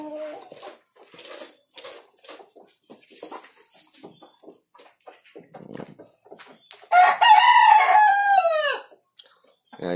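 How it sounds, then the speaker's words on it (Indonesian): Chickens in a shared coop, with scattered soft clucks through most of the stretch, then a loud nearby rooster crow that dominates for about two seconds before fading. "Nah ini ayam-ayam kita mulai ya."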